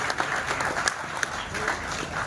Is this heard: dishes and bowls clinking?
no